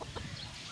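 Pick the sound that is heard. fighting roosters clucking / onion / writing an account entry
fighting roosters clucking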